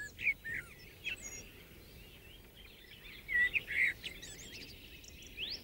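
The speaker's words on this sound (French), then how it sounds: "Voici le chant d'un merle." A blackbird sings in short, clear fluting phrases separated by pauses, fairly faint against a soft outdoor background hiss in a mountain setting.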